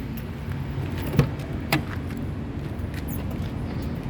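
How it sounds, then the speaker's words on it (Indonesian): A 2006 Suzuki APV 1.5 manual being unlocked and opened, two sharp clicks of the lock and door latch a moment apart over a low steady background hum, no talk. "Sekarang kita coba buka saja mobil ya"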